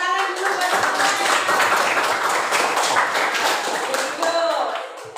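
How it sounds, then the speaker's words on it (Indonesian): Schoolchildren in an Indonesian classroom clap together during a math lesson, a dense, steady burst of many hands lasting several seconds at close range, with some voices mixed in. "Tepuk tangan dulu buat teman-teman."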